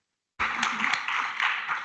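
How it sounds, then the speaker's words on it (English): Audience at a renewable energy conference applauding panelists, a steady burst of clapping that starts abruptly after silence and continues evenly, fairly loud and close. "please join me in applause for our panelists"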